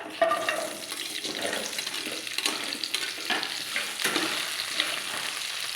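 Potatoes frying in a pan give a steady, moderately loud crackling sizzle with occasional stirring scrapes, and no voices.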